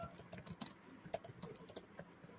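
Rapid, irregular keystrokes on a computer keyboard during a product-management work session, close and fairly quiet, with no talking.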